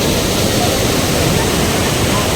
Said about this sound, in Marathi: पाणी इतकं वाहत आहे ना.